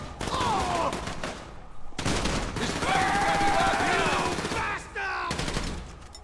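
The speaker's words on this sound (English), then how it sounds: "Still shooting going on." Gunfire in GTA V with the LSPDFR police mod: several loud bursts of rapid shots, some sustained like automatic fire, broken by short pauses and with shouting voices mixed in.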